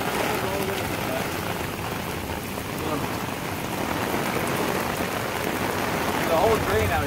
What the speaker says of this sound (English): Just pouring rain.